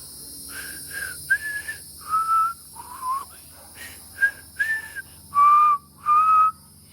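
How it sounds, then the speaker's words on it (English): A person whistles a halting, uneven tune of short notes and pauses, close by with no talking, the last two notes held longer and louder. "I'm very bad at whistling"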